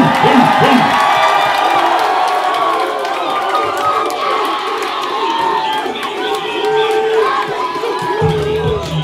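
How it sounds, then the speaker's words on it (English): A crowd at a live rap concert in Norwalk cheers loudly, with whoops and shouts blending into a dense, continuous roar up close. "Give yourselves a round of applause"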